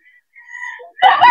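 A fighting rooster crows briefly and close by: a thin rising call leads into a loud, harsh burst at the end.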